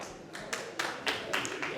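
Spectators at a Grapple Wars grappling match, an 88kg title fight, give a short burst of scattered clapping, a handful of distinct claps over quiet room noise.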